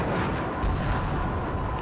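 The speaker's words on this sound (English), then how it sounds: "Whoa, I just got napalmed." A napalm strike detonates close by in the video game Rising Storm 2, a loud, sustained roaring blast that fills the whole moment without any talk.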